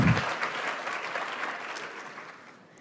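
An audience applauds to welcome Jim Messina, Deputy Chief of Staff to President Barack Obama. The clapping is steady and dense, with crowd noise throughout, and fades slowly toward the end.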